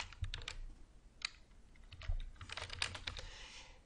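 Typing on a computer keyboard to enter a username and password, with short bursts of close, crisp key clicks in an uneven rhythm and quiet pauses between them.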